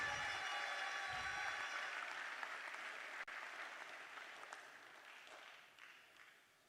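Sustained audience applause at a Congolese national scholarship award ceremony, dense clapping that slowly thins and fades toward the end.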